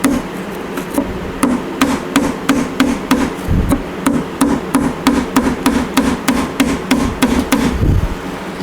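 A hammer gives a steady run of quick, loud metallic taps to a car heater box from an MGA 1600 roadster, close and evenly spaced, with a couple of duller knocks in between.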